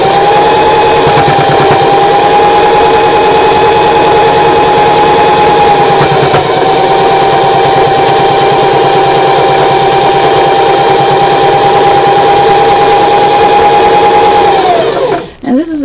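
A sewing machine top stitching around the edge of a handkerchief gives a loud, steady motor whir that runs unbroken for about fifteen seconds before stopping abruptly at the end.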